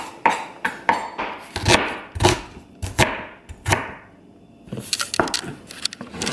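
Knife chopping onions finely on a cutting board while cooking jerk pork with rice and peas, a run of sharp, irregular close taps with a short pause before the cutting resumes.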